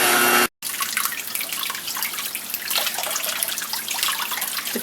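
Water runs steadily from a tap over gluten dough as its starch is rinsed away, a continuous close splashing and trickling that starts after a brief cut and stays at an even level throughout, with no talk.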